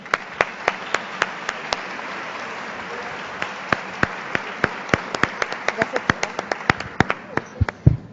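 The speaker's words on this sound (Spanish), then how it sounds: "Un fuerte aplauso, por favor." At a congress on inclusion, the audience gives a round of applause, scattered crisp claps ringing out over a thinner background of clapping that grows busier toward the end.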